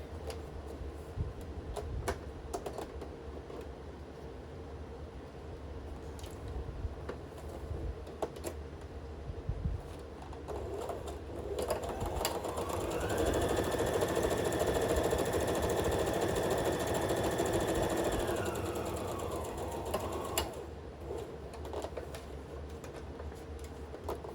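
A sewing machine stitches along the edge of a 12-inch paper craft project. Faint ticks and handling noises come first, then the machine runs with a steady, moderately loud hum for several seconds before winding down.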